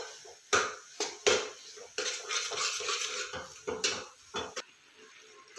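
Carrot and coconut laddu mixture is stirred in a pan over a high flame, a spoon scraping and clinking against the metal in irregular strokes, close and fairly quiet.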